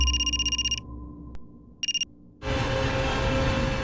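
A phone rings in bursts of rapid electronic trills, one ring sequence, a short pause, then a second shorter burst, before a loud broad background noise takes over.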